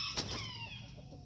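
Backyard hens clucking at close range in a short burst, with a bright call near the start and harmonic clucks trailing off over a steady low yard hum.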